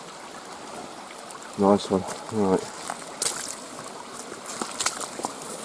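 A river runs high after heavy rain, its water flowing in a continuous faint rush. A few brief voices speak over it midway.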